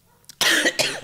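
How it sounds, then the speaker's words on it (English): A single close, loud cough in two quick bursts bursts out after a faint breath in a quiet room. "And then you coughed."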